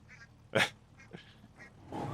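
Cartoonish ducks quack a few times in the Hot Wheels Infinite Rush video game, short nasal calls spaced apart at moderate volume, with a louder burst in the middle and a soft rush of game noise at the close.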